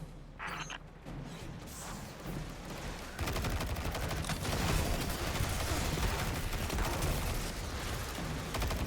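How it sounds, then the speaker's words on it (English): Automatic rocket fire in the video game Destiny 2, a dense, sustained rattle of rapid launches and blasts that grows louder after a few seconds and keeps going steadily. "This thing is just shooting rockets automatically for us"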